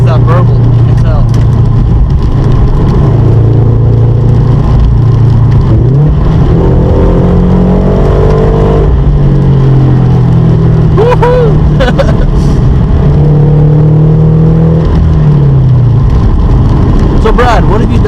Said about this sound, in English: It is catless and with UEL headers, so you get that Subaru rumble.